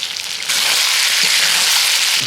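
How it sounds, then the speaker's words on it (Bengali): Chicken curry fries in a pan with turmeric and spices, a loud close sizzle that swells suddenly and holds steady, with faint stirring scrapes. "মশলাগুলো দিয়ে ভালো করে আমি কষিয়ে নিলাম"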